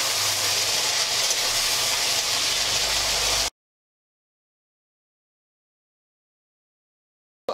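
Tomatoes frying in hot oil in a pan for a tomato chutney give a steady, loud sizzling hiss for about three seconds, then the sound cuts off to silence.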